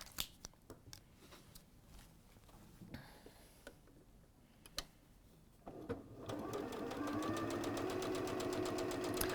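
A sewing machine stitches down fabric for a wide-mouth frame purse, running steadily and louder in the second half after quieter clicks and handling noises.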